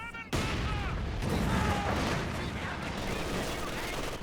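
Twin LMG machine guns rattle in sustained bursts during a Company of Heroes 2 battle, dense rapid fire filling the mix alongside other combat noise, with commentary speech over it.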